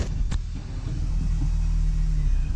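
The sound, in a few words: R53 Mini Cooper S engine running as clutch engages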